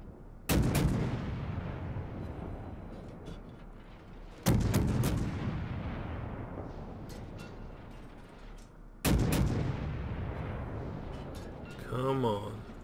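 Naval artillery salvos in World of Warships, three heavy booms spaced about four seconds apart, each rolling off in a long rumbling decay, with a voice speaking briefly at the end.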